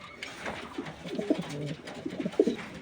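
Pigeons cooing at a Jacobin pigeon farm, soft repeated throaty coos close by, several overlapping calls in irregular bursts against quiet background.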